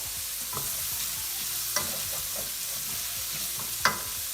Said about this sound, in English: Here goes my tomatoes. Let tomato cook for another 5 minutes or so.